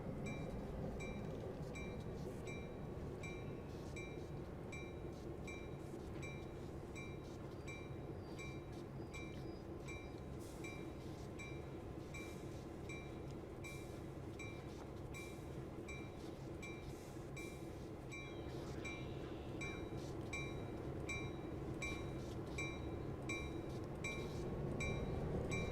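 A Canadian National GP9RM diesel locomotive in Train Sim World 2020 rumbles steadily for the whole stretch, a dense, even engine and rail drone with faint rhythmic clicks and no talking.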